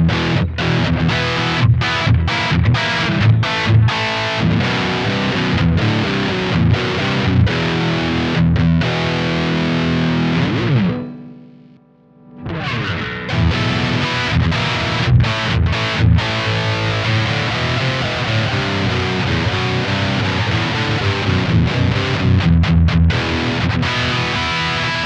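Heavily distorted electric guitar played through the Lead channel of a Two Notes ReVolt preamp emulating a Soldano SLO 100, loud dense chugging riffs with a brief near-silent gap midway before the playing resumes.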